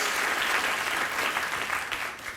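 Brief burst of studio audience applause on a late-night talk show, a thick, even roar of many hands clapping that stays steady and fairly loud for a couple of seconds.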